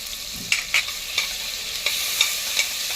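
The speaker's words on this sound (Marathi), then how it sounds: "हे मसाले सगळे परतून घेऊया" Spices, ginger-garlic paste and a chilli-garlic chutney made with Byadgi chillies sauté in a pan for pav bhaji, giving a steady loud sizzle broken by regular scraping strokes of the spoon.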